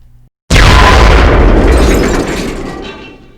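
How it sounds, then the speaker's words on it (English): A sudden loud boom bursts out of near silence, then a long roaring rumble that slowly fades over a few seconds. "a young man's scream electrifies the crowd, followed by an explosion"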